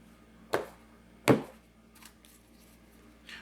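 A tarot card deck is cut and shuffled by hand, giving two sharp card slaps close by, then a few softer taps and shuffles in a quiet room.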